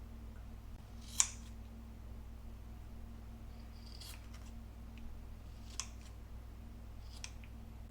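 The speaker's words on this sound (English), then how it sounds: "And I'm going to cut it like a triangle." Scissors cut craft material into a triangle for a Halloween terrarium built from Dollar Tree items. Four sharp, isolated snips are spaced over several seconds against a quiet room hum, with no talk.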